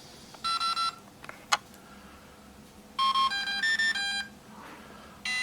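A Swordfish ESC sounds its confirmation beeps during setup: a short run of electronic tones, a brief pause and a sharp click, then a longer stepped series of beeps at varying pitches.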